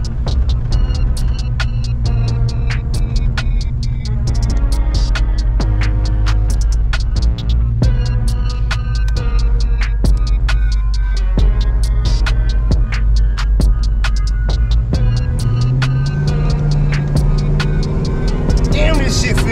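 A Chevy car cruising with a steady engine hum and throb, heavily overlaid by loud music playing inside the cabin, continuous for the whole stretch.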